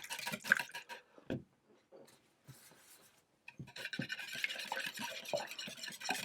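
Lemon juice and a large egg are whisked in a bowl, with quiet rapid scraping and rubbing strokes that start and stop, then settle into a steadier stretch near the end.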